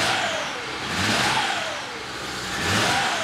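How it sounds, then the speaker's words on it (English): A BMW 335i wagon's twin-turbocharged six runs roughly, misfiring and not firing on all cylinders, and revs up and down in three close, loud swells with turbo whine rising and falling; no voices. "you can hear the turbos, but it's still not running on all six"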